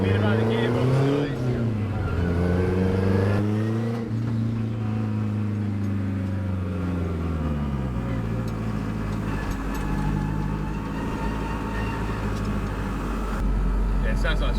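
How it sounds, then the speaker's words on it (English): A turbocharged K20-engined Mk2 Ford Escort with a straight-cut gearbox drones loudly up close with shifting revs and a whining gear tone, while people talk over it. "it sounds like a straight cut gearbox."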